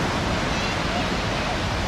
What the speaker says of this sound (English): I see the waves coming in a lot inside the beach.